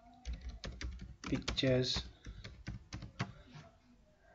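Rapid, uneven clatter of keystrokes on a computer keyboard while setting up a Fiverr gig, close and fairly quiet, under a voice speaking Hindi.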